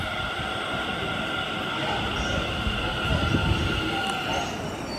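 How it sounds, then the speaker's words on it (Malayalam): A Delhi Metro train pulls into a station with a steady, loud rumble and faint wheel squeal. The sound holds level throughout, with a slight swell partway through. "നമുക്ക് പോകാനുള്ള മെട്രോ എത്തിയിട്ടുണ്ട്"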